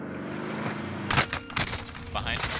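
Gunfire in the video game Warzone, loud bursts of shots that break in after about a second and keep rattling through the rest of the clip, with game engine noise and voices underneath.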